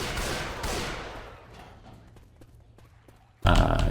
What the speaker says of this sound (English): They hit him with fire bullets.